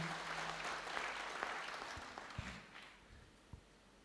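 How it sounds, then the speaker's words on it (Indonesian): Church congregation applauding together, a broad steady wash of claps filling the room and slowly fading toward the end, with a few louder thumps near the close. "mari kita berikan tepuk tangan buat Tuhan"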